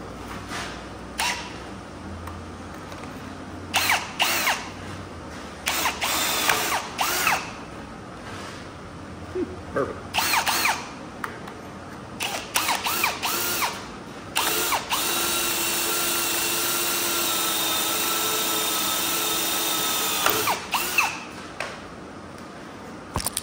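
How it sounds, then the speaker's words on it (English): A power drill bores grease holes into a CAT 637 scraper hitch, first in short on-off bursts, then in one long steady run, with clicks and clatter from the tool between passes. "drill out our grease holes"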